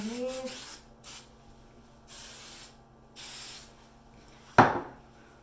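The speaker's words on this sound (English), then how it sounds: "I'm going to take the hairspray." Three short hissing bursts of hairspray from an aerosol can are sprayed onto hair close by, evenly spaced, followed by a sharp clatter of the can being set down.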